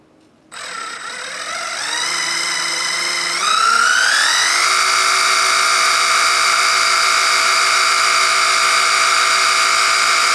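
A hydraulic pump running a pressure test with a gauge and reservoir starts abruptly, then whines and rises in pitch in steps before settling into a steady, loud, high motor drone.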